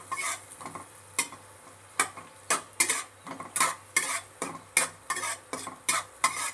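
Spices cooked in butter are stirred in a pan, a spoon scraping and clinking against the metal in regular strokes over a soft continuous sizzle, close and clear.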